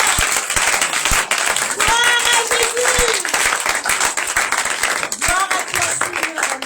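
A church congregation at a Sunday service claps and applauds steadily throughout, a dense close wash of hands under a preacher's voice and shouts.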